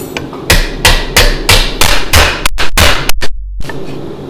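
A hammer strikes metal held against a flat surface in a rapid series of about a dozen loud, sharp, close blows, evenly spaced at first, then quicker and more irregular before a short pause and a final hit.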